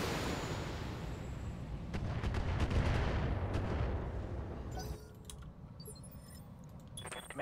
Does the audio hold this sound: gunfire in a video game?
yes